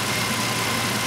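A car engine idles steadily and fairly loud after its throttle body has been cleaned, giving a continuous even hum for about a second with no voices.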